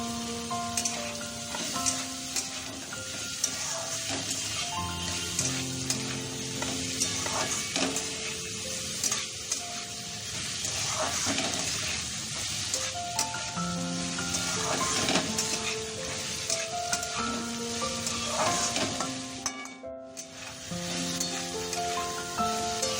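Green chilies sizzle in a hot pan for suji pulao, a steady close frying hiss with occasional stirring scrapes and small crackles throughout.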